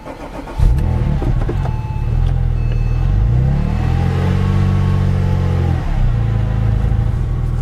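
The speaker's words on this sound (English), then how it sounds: "now we'll go ahead and warm the car up again" A Porsche 996 Turbo engine idles steadily and close by, warming up after a radiator replacement, its low rumble rising briefly as the revs climb and then settling back into a constant drone.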